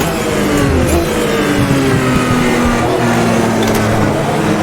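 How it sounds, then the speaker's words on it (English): A race car engine in the Automobilista 2 sim racing game drones loudly and continuously, its pitch sliding gradually as the car runs through a wet endurance race, with no talk over it. "Oh, you can hear the engine."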